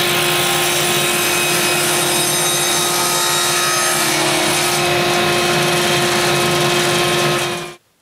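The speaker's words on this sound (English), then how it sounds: "Now I'm going to install the ripping blade in my table saw, and I'm going to rip this 3/4 inch thick walnut to 15/16 inch wide pieces." A table saw fitted with a ripping blade cuts through 3/4 inch thick walnut, a loud steady whine with a grinding, rough cutting texture that holds for several seconds and then stops abruptly; no talking.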